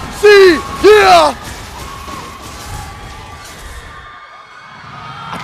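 An esports crowd of Phoenix Army fans at a Mobile Legends match lets out two loud, shrill whooping yells in quick succession, followed by a lower, sustained murmur of crowd noise fading away.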